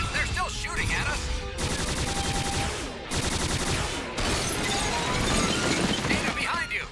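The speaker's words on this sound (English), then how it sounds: "They're still shooting at us." Rapid gunfire rattles through an animated science-fiction battle, with dense bursts of shots and crackling impacts separated by short gaps, loud and continuous.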